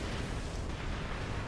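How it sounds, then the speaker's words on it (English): Explosion in Saints Row 4 destroying things, a dense broadband roar sustained across the whole moment, loud and rumbling with no clear onset, filling the scene. "Explosion sometimes is too fucking powerful for its own fucking good"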